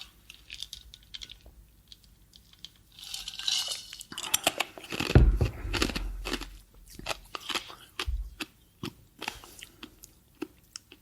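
Ice crunching between the teeth while drinking water, close to a microphone: a dense burst of crisp, crackling crunches builds around the middle, then scattered sharp bites and clicks continue alone with no talking.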